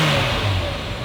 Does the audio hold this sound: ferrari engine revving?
yes